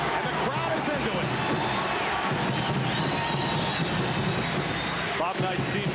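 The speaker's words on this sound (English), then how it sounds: "And the crowd is into it." Home crowd roaring and cheering steadily inside Notre Dame's basketball arena during a 1986-87 college game against Indiana, a dense sustained wall of noise with a play-by-play voice talking over it.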